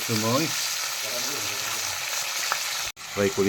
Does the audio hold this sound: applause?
no